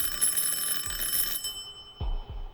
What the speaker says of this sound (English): The silence of my flat was disturbed by the ringing of the doorbell.